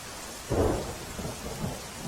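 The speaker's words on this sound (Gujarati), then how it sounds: "સવારથી સાર્વત્રિક વરસાદ છે।" Heavy rain falls steadily in a downpour, with a low thunder rumble rising sharply about halfway through and rolling on under the rain's constant hiss.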